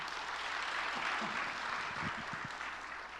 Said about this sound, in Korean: 자, 이제 우리 젠 사모님을 다시 한번 큰 박수로 환영하겠습니다.